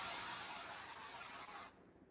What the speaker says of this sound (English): So you're going to spray it.